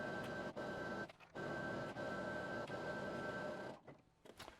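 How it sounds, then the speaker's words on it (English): A sewing machine runs a stretch stitch around the headband of a beginner's holiday Santa or elf hat, giving a steady mechanical whir with a few short pauses and a slowdown near the end. "So now I'm just gonna sew all the way around until we get back to the starting point."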